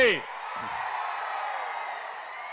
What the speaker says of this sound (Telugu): గెలిపిస్తామని గట్టిగా చప్పట్లు కొట్టి